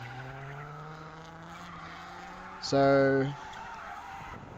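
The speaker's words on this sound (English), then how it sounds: "And big spin out there." A Holden Commodore sedan spins out at a drift event, tyres giving a loud, sudden squeal lasting under a second over steady engine drone, with brief talk at the start.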